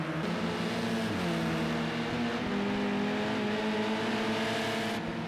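Race cars in a BTCC racing game at Knockhill rush down the front straight, several engines droning and revving at once in a steady, loud, overlapping whine that sweeps in pitch as they pass.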